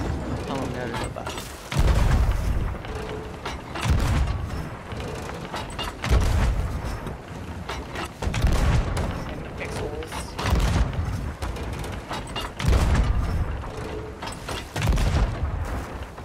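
Ship cannons on a sloop in Sea of Thieves fire chain shot, heavy booms landing roughly every two seconds with creaking and ratcheting wood and mechanisms between them, while players talk over the action.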